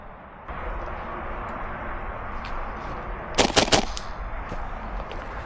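Gas blowback airsoft rifle fired in the woods, a short rapid burst of sharp cracks standing out against a quiet outdoor backdrop, with fainter single clicks scattered around it.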